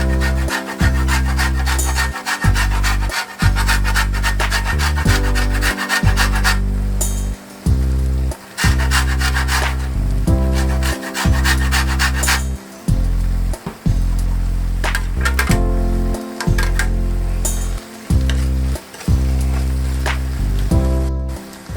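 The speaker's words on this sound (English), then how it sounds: "I grated the skin of about half of a lemon for lemon zest." Rhythmic rasping strokes of half a lemon's skin rubbed across a grater for zest, loud and close, a repeated back-and-forth scraping with brief pauses between passes.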